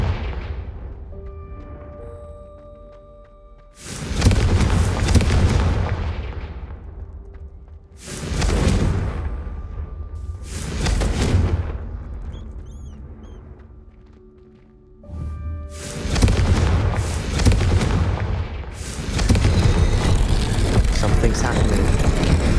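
Confringo blasting-spell explosions in the Hogwarts Legacy video game, several loud booming blasts with long roaring decays that come in quick succession and overlap, up close and dominating the mix.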